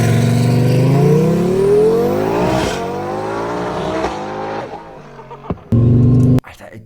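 A Lamborghini engine revs hard and accelerates, a loud rising howl climbing in pitch that fades as it pulls away, followed by sharp bursts of revving, with voices talking over it.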